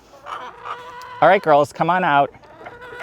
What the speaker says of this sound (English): I think it's the perfect size for 10 little chickens